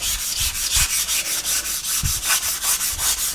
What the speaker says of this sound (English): just a light sanding